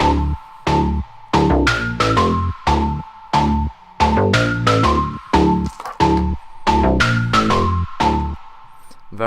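Layered RnB bass in FL Studio, with a deep sub bass under bright bell-pluck synth notes, plays a dense, steady groove of punchy low notes and ringing high plucks together, loud and unaccompanied by voices.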